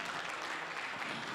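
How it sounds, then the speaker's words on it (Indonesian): Applause from a church congregation during a sermon, a steady, dense wash of many hands clapping together at moderate distance, fairly even throughout with no voices standing out. "Tepuk tangan buat Tuhan."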